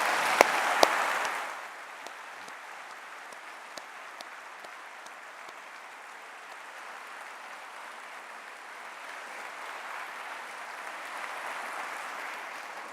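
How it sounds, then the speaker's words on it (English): Graduation ceremony audience at the University of Southampton giving a round of applause, a broad far-off wash of clapping that starts with a couple of sharp claps and then holds steady at a moderate level. "clap of appreciation, please?"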